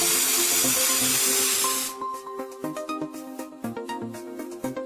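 A steady, loud hiss of Northstar adhesive spraying from a canister for about two seconds, then it cuts off, leaving scattered clinks and light knocks.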